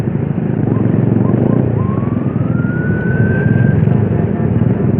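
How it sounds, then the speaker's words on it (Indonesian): An emergency siren wails in the distance, a single rising tone under loud, steady motorcycle engine and road noise. "Waduh, dengar suara sirine itu kayak 86."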